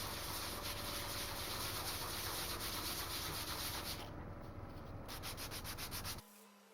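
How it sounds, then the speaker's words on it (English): A metal knife surface is scrubbed by hand with 80-grit sandpaper in steady, rapid back-and-forth strokes. The close, continuous rasping stops abruptly near the end. "So now I'm going to be roughing up this surface as well with 80 grit."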